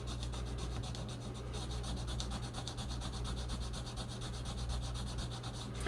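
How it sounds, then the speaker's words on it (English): Continuous close scrubbing of the contacts on an original Nintendo controller circuit board, a fast steady rubbing rasp lasting several seconds without pause or talk. "So, I'm just going to give her a little scrub."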